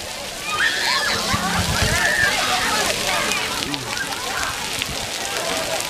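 A child splashing and playing in water at Gilroy Gardens theme park, with continuous sloshing and splattering mixed with crowd noise and voices in the background.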